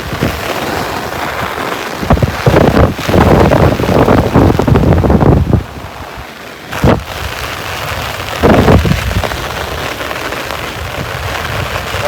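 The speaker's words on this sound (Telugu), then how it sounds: "వర్షం బాగా కొట్టింది" Heavy rain pouring down in a village during a storm, a loud dense hiss with gusty wind buffeting the microphone and brief bursts of louder rumble, steady throughout with no talking.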